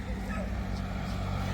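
Dogs barking and yipping outdoors near a road in a grassy countryside area, a few short yelps over steady background noise with a faint voice.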